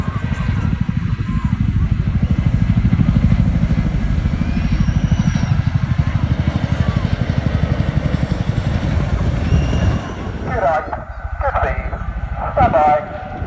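A 15-ton aircraft flies air show manoeuvres at the Bournemouth Air Festival in wind, its loud, steady engine roar droning for about ten seconds before breaking off into uneven gusts.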